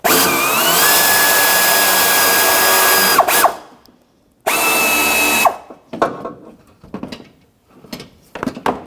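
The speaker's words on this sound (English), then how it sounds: "And I loosened it up enough, I'm going to get my electric ratchet." Electric ratchet with a 10mm socket loosening a bolt on a 2007-2017 Jeep Patriot 2.4L, two loud sustained whirring bursts with a brief gap between them, then scattered clicks and clanks.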